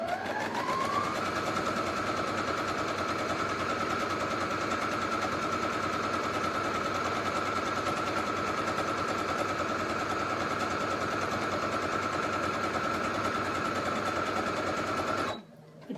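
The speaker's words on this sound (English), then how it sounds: "I'm going to sew on the other side of that line now" A sewing machine runs steadily through fabric for about fifteen seconds, a loud continuous whirring hum close by that stops abruptly at the end.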